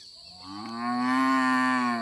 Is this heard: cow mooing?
yes